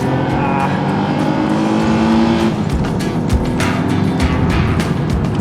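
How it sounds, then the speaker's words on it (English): An Alfa Romeo GTV V6 with the Busso engine pulls hard after a downshift, its engine note loud and continuous as it accelerates, with the rising roar heard close from inside or beside the car. "Just shift one gear back and then step on it."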